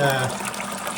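Dirty water gushes and gurgles through a Dang Good portable carpet steam cleaner as it extracts from apartment carpet, a close, steady watery rush with suction noise.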